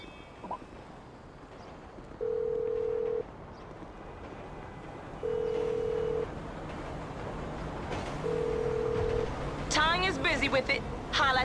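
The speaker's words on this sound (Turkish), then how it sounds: "Tonya açsana telefonu." Repeating phone ringback tone in Grand Theft Auto V, three evenly spaced steady beeps about three seconds apart over game ambience and traffic noise, with brief tonal chirps near the end.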